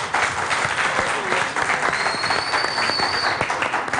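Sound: studio audience applause

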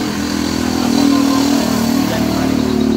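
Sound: motorcycle at a steam wash

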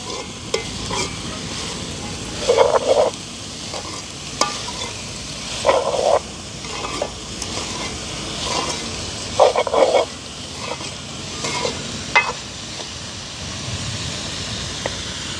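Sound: onion flowers sautéing and being stirred in pan

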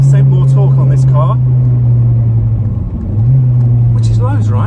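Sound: modified Honda EP3 Civic Type R K24 engine accelerating, third gear

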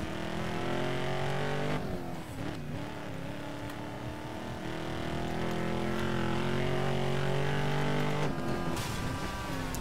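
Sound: Ford Raptor off-road truck driving in Need for Speed Most Wanted video game

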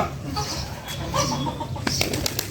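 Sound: pigeon cooing and flapping wings

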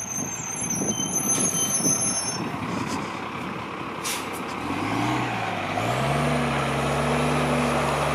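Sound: route 71 city bus passing with air brakes

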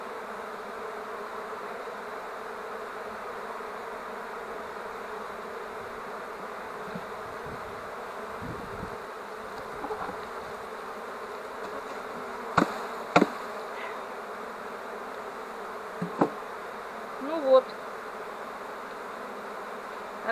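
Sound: honey bee swarm buzzing around an empty hive

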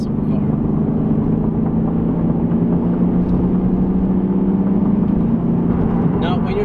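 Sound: Lexus RC300h engine sound while driving

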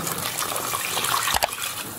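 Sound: water poured into crab curry masala in pan

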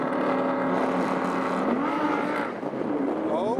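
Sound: two Audi R8s, Coupe and Spider, launching in a drag race

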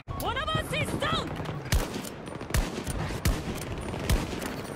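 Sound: gunfire in the video game Battlefield 2042

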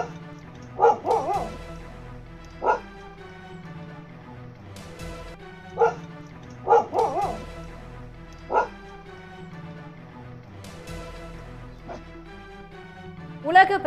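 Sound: pet dog barking at a wild elephant

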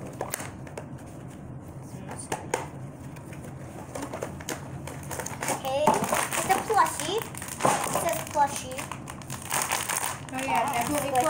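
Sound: toy package being opened, crinkling wrapper

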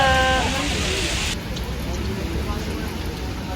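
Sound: heavy rain falling while walking outside

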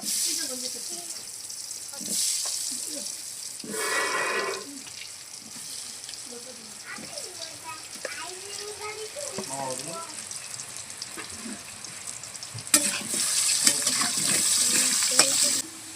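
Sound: frying potatoes coated with salt and turmeric in hot oil

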